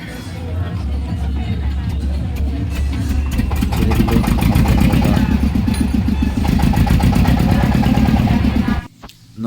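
A boat's engine runs steadily at a river crossing, a loud low drone with rhythmic pulsing that holds for about nine seconds before cutting off abruptly, with voices faintly mixed in.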